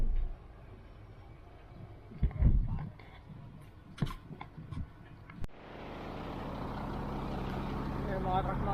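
Trucks work at a wide site with a wheel loader and bulldozer. Scattered knocks and faint rumble give way to a loud, steady engine roar partway through, with a voice speaking early on.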